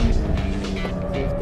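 Race cars circling a track, one pulling past a yellow Toyota Altezza, with a steady, loud engine roar that holds up close for the whole moment and has no talk over it.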